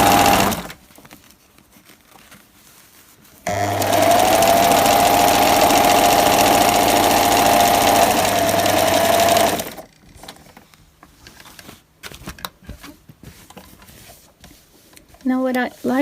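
A sewing machine stitches fabric scraps in a loud, steady whir of about six seconds. Quieter handling noises and brief bits of talk come before and after it.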